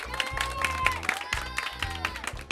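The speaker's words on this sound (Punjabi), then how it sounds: "ਤਾੜੀਆਂ ਮਾਰੋ ਬੱਚਿਓ" Children clapping at a talk about drug addiction in Pakistan, bursts of applause rising and falling close by, mixed with crowd noise and overlapping talk.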